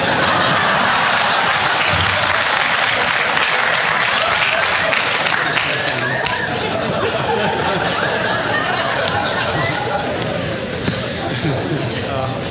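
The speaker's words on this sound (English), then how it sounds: "I love the applause" Audience at a 2010 Michigan Republican congressional primary debate applauds in a long, thick wash of clapping mixed with scattered laughter, while voices talk over it.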